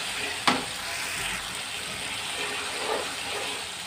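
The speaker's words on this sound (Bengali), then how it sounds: "আদা রসুন ভালো করে কষালে কিন্তু তরকারি ভালো লাগে খেতে" Ginger garlic paste sizzles in a pan with a soft, steady frying hiss and a couple of sharp stirring taps, close and with no voices.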